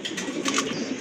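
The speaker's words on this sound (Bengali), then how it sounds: "আরেক জোড়া মুন্ডিয়ান কবুতর" Mundian pigeons coo softly in a steady low murmur, with a few brighter chirp-like bursts over constant background hiss, close and moderately quiet.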